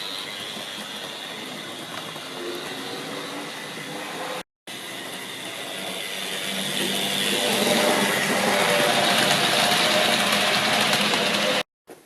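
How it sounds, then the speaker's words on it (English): A model railway locomotive with an old XO3 or XO4 motor and nylon gears runs with a steady whirring grind that swells louder partway through, broken by two brief silent cuts. "the nylon gears tend to be quite noisy compared to the older metal gearing"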